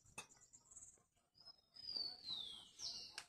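Small birds chirp faintly, with a few thin high calls and a brief whistling trill near the end, against quiet background rustling.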